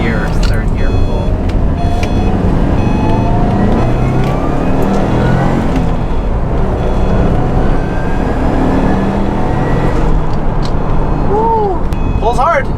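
A Subaru STI hatchback pulls hard in second or third gear, a loud, dense engine and road roar with rising pitch sweeps as it accelerates, heard from inside the cabin, with a brief squealing sound near the end.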